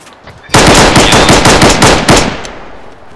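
A loud, rapid burst of automatic gunfire in Arma 3, shots cracking in quick succession for about two seconds before cutting off, with a faint tail of echo.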